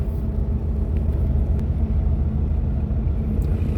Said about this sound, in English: Look like a grain truck coming in.